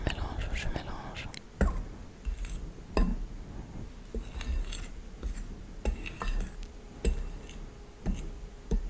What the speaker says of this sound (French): Ensuite, je mélange un petit peu.